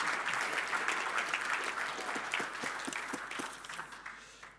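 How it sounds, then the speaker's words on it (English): A modest audience at a conference closing session and giveaway claps for a prize winner, a short quiet burst of applause that gradually thins out. "Quick round of applause."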